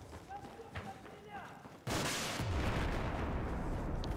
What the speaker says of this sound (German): Irgendwas ist hinter mir explodiert.